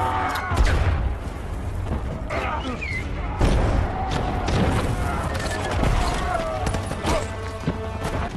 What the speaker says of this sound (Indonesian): Lalu meriam Angkatan Laut Amerika segera membumi hanguskan tempat tersebut